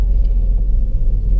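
Inside a car on a driving lesson, a loud steady low engine rumble and road drone close around the listener, without speech.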